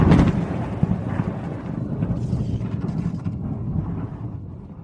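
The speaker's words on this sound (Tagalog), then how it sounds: "Dapat lang natamaan ka ng kidlat, masamang tao." Lightning strikes with a sudden loud crack, then thunder rumbles and rolls on, slowly fading over several seconds with no voices.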